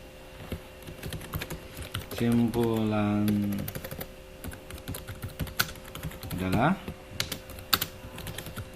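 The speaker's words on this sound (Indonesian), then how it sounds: "kita ketik ulang saja" Rapid keyboard typing on a computer during a math lesson, a steady stream of close clicks across the whole stretch, with brief voiced speech breaking in midway and again near the end.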